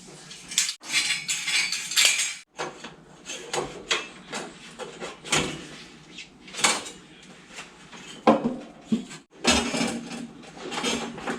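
Metal tools clatter and clink while someone rummages through them for a wrench, a string of irregular jangling bursts and knocks that are close and fairly loud, with no talking.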